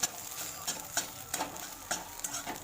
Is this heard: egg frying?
yes